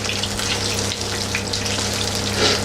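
Corned beef fritters frying in a pan give off a steady, close sizzle with faint crackles, continuous for the whole stretch and heard on its own without any talk.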